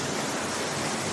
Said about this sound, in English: first set of waterfalls